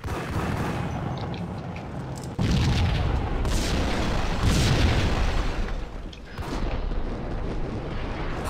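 A building packed with explosives blows up in Max Payne: a thick, rumbling roar of blasts that surges partway through and rolls on for several seconds without letting up.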